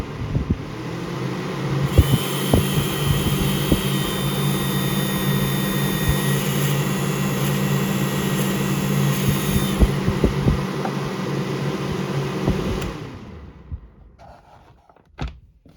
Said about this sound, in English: Yeah, this is a really impressive fan for what it is.